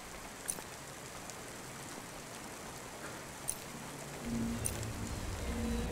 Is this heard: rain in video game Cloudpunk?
yes